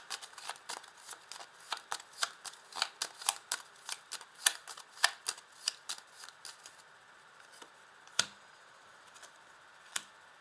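Tarot cards are shuffled by hand at close range, giving a quick run of crisp, papery flicks and snaps, then a few isolated card taps as the shuffle slows and a card is drawn.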